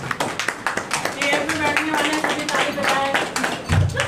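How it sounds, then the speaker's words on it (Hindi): Audience clapping at a one-day athletics meet, a scattered patter of hands at moderate volume with voices talking over it throughout. "तालियां तो बजाइए।"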